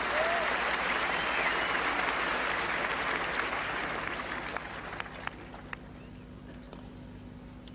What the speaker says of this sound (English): The crowd again, a big hand for Lendl.